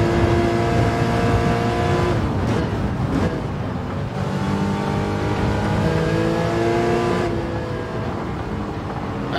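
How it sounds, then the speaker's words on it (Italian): An Aston Martin race car engine in Gran Turismo 7 roars loudly and steadily, its pitch climbing through the revs with a few quick gear-shift dips, close and continuous with no talk. "Senti questa Aston Martin come ci suona!"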